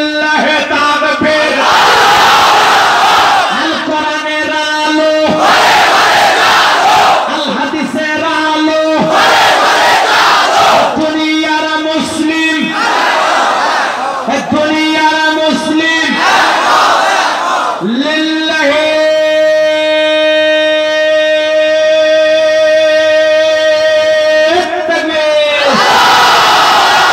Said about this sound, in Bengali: বিবাহিত অবিবাহিত মুরব্বী যারা আছেন সবাই মিলে একটা স্লোগান দেন, লিল্লাহে তাবে।